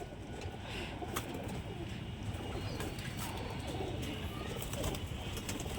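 A flock of old-line lofted pigeons in a breeder's loft coos in a steady, dense murmur throughout, with faint voices now and then in the background.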